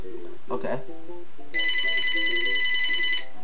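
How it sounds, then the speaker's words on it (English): A telephone rings with a bright, sustained electronic trill lasting over a second, heard indoors after a brief spoken word, with faint game music underneath. "And that's the phone."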